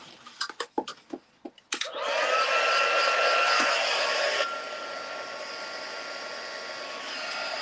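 A heat gun blows hot air over a stamped papercraft piece, a loud steady whooshing roar that starts abruptly after a few sharp clicks and taps, then drops slightly in level partway through.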